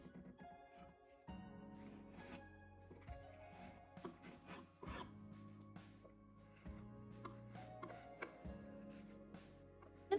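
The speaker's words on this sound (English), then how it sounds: "we are ready to start scuff sanding" Scuff sanding a laminate dresser after its holes were filled with plastic wood: a steady, close rasping rub of abrasive on the surface with small knocks and shifts throughout.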